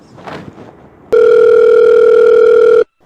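A phone call's ringing tone sounds loud and steady for under two seconds on the line, after brief faint rustling, then cuts off abruptly.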